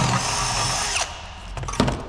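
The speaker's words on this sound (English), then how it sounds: "Put it back in the vise, take my drill." A power drill enlarges the center hole of a workpiece held in a vise, whirring steadily for about a second, then a few short bursts and clicks as it slows and stops.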